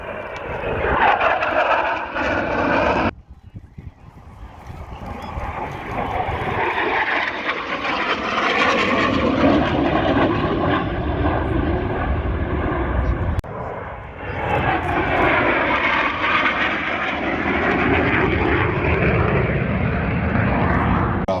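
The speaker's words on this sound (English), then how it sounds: "there it is, ladies and gentlemen, the Draken" Swedish Draken jet fighter passing at an air show, a loud sustained roar that swells and fades, briefly drops off, then builds again as the aircraft continues its pass.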